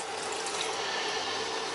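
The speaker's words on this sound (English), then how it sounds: "So I add some hot water." Hot tap water pours steadily into a pot of fabric dye for ripstop kite fabric, a continuous close rushing splash with no pauses.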